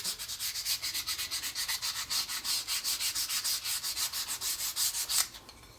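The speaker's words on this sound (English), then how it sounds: "give the outside edges a good sanding" Small wooden jig pieces have their edges sanded by hand, a rapid, even back-and-forth rasp of about twenty close strokes that stops abruptly near the end.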